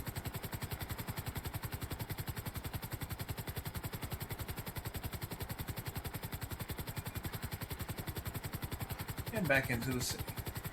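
A helicopter in GTA V on a medical flight heading back into a city, its rotor chop a steady rapid thudding throughout, loud and close under a voice talking over it, with a brief burst of extra noise near the end.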